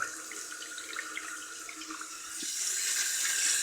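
A Kohler Pompton toilet bowl slowly fills with water as it nears overflowing. The trickling and rushing water stays quiet and close, and it grows somewhat stronger toward the end.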